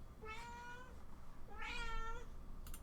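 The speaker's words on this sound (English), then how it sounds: "I can hear you, cat." A cat meows twice, two drawn-out, harmonic calls about a second apart, close by over faint room noise while someone searches for computer drivers.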